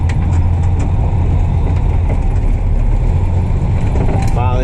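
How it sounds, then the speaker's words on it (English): Diesel vehicles passing on a road, a loud continuous low engine rumble and road noise heard from close by throughout, with a voice speaking briefly over it. "Diesels right there."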